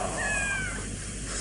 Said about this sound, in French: Le chat. Le chat. Tu le vois, Leblanc?